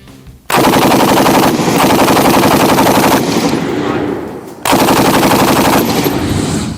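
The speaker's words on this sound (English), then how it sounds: "The HK-MG5 is one of the most advanced machine guns on this list." A Heckler & Koch HK-MG5 machine gun fires two long, loud, rapid bursts close by, separated by a brief pause.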